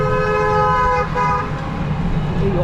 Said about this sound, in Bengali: এই অযথা অযথা গাড়িতে হর্ন দেওয়া, এইটাই একটা বিরক্তিকর কানের সামনে